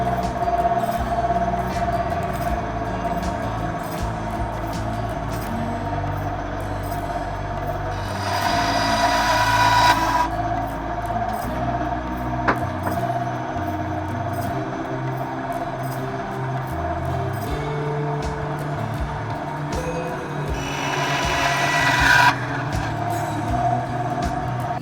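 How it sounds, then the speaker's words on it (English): A bandsaw cuts out a wooden cross pendant. Its motor gives a steady, close drone throughout, and two short, harsher bursts rise around the middle and near the end as the blade bites into the wood. No one speaks. "I'm going to cut it out on the bandsaw."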